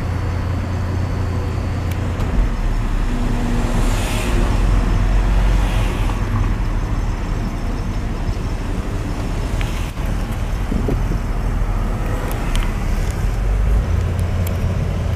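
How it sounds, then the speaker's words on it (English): Steady Montreal city traffic rumbles with heavy engine drone from passing buses and cars, a constant roar with occasional higher hisses. "Well, there's a couple buses."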